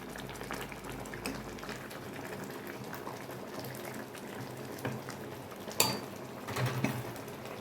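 Turkey berries (sundakkai) simmer in a pot of water for an Indian-style curry, giving a soft, steady bubbling with a few faint clinks and no talking.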